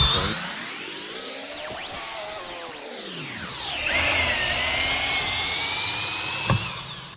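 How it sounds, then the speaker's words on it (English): A power drill drilling out fasteners on a pool skimmer whines continuously, its pitch rising and falling as the motor speeds up and bogs down under load, close and loud. "now we're gonna move to drilling some of these out"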